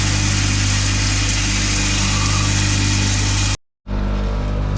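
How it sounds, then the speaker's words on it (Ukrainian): A 220V pellet mill driven by a 2 kW electric motor, loaded with wheat, runs with a loud, steady mechanical drone and whine, then cuts abruptly to a brief silence before the noise resumes. "тут двигун стоїть 2 кВт. Зараз я покладу молоти пшеницю відважно і покажу"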